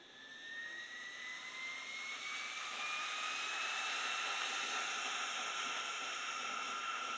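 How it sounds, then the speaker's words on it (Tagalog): Acerpure Cozy HF1 fan at maximum speed, a steady airy whoosh with a faint motor whine that rises slightly in pitch as it spins up, then holds at a constant level. "tatahimik muna ako para marinig nyo yung speed niya or yung fan noise niya"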